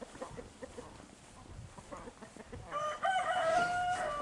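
Hens cluck softly amid farmyard noise before a rooster crows fairly close toward the end, rising over a quiet, busy background.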